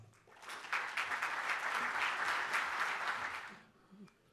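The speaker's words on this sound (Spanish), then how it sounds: "Le brindamos un fuerte aplauso." Audience applause at an international electoral studies congress, a burst of clapping from a seated crowd that swells quickly, holds for about three seconds and then fades out.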